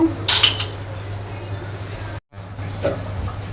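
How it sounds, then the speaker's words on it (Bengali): Dishes, pots and cups being washed up by hand in a home kitchen: a few light clinks of crockery and cutlery over a steady background hum, close by and fairly soft. "কতগুলি থালা বাসন জমে গেছে এখন এইগুলি সব ধুয়ে নিব কাপগুলিকে কাপগুলির জায়গায় রেখে দেব"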